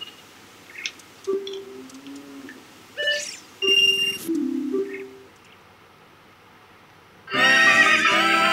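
Horse neighing in The Legend of Zelda: Ocarina of Time, short whinnies and game chimes and beeps scattered across the clip, ending in a loud burst of bright game music.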